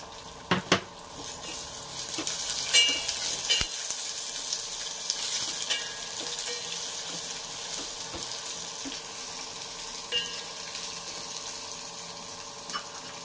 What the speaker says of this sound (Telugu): పచ్చిమిర్చి, ఎండుమిర్చి వేగినాయి కదా, ఇప్పుడు ఆనియన్ వేసేసుకున్నాము.